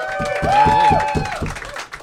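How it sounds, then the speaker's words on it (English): An audience claps and whoops for a comedian on a comedy show, with a loud burst of clapping and a rising cheer sweeping through the noise. "round of applause for John"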